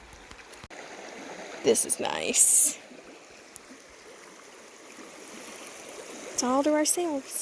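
A soft, steady rush of creek water flows beside a shaded camping spot, a constant background wash under people talking, with a few brief louder bursts.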